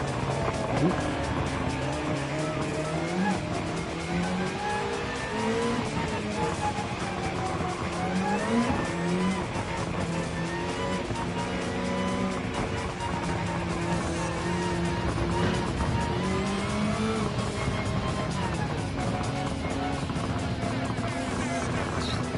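Race cars roar continuously in Gran Turismo 7 during a Gran Turismo 500 event, engines droning with shifting pitch and occasional tire squeal, loud and steady throughout.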